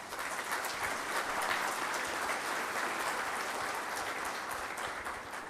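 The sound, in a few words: audience applause at a legal expert panel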